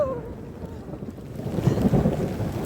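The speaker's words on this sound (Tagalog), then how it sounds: "Lakas ng hangin." Strong wind gusts during a thunderstorm, a loud, rough, blustery roar buffeting close by and swelling stronger toward the end, with rain mixed in and no voices.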